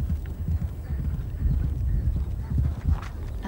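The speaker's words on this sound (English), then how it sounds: "Horse and rider expected to jump at speed over racing-type brush fences." Horse galloping on a steeplechase course with racing-type brush fences, a continuous rapid, rumbling drum of hoofbeats on turf at close range, with faint voices in the background.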